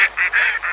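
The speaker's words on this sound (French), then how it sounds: "voilà les canards de Monsieur Paille." Ducks honk and call in a run of four or five loud, close, nasal notes, each lasting a fraction of a second.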